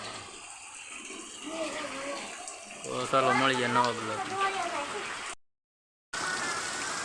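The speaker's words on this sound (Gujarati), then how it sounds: "મિત્રો જોરદાર વરસાદ છે અત્યારે" Heavy monsoon rain pouring steadily in a village, a continuous loud wash of water with someone talking over it partway through, followed by a brief silence before the downpour resumes.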